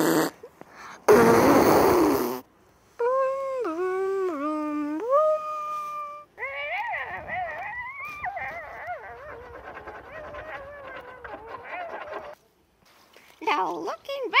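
A single loud, raspy cartoon fart bursts out for about a second near the start, followed by exaggerated cartoon voices howling and whining.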